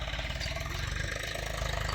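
A tractor engine runs on a farm field worked with a cultivator for chilli planting, giving a steady, close, loud low rumble with a fast, even pulsing throb and no voices.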